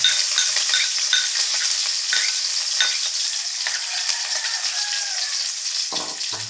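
Onions sizzle and fry in a pan while being stirred. A steady, close hiss carries scattered scraping clicks of the utensil.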